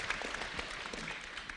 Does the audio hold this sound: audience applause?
yes